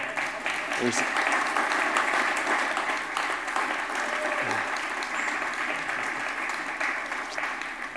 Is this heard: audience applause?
yes